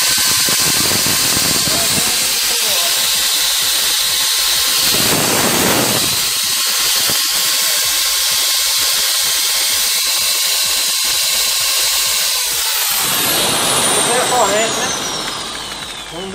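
An electric drill powered by a 3000W pure sine wave inverter runs in short bursts, a steady motor whine with the pitch rising and falling as it starts and stops. Someone speaks between the bursts.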